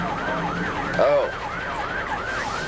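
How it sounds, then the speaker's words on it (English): An emergency vehicle siren wails in a steady rising-and-falling cycle, loud and close, while a voice briefly exclaims partway through. "Kill the siren."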